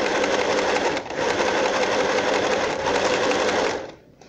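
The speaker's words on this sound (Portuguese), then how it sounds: "Você vai e costura, tá? Ó, aqui ajeita direitinho e faz a costura." Sewing machine stitching legging fabric, a fast steady mechanical whirring with a brief slowdown near the start, running close and alone before stopping abruptly at the end.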